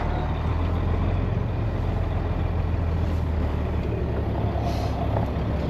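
Air brakes on a Sterling truck during corn harvest give a steady loud hiss with engine rumble underneath, continuous for several seconds without speech.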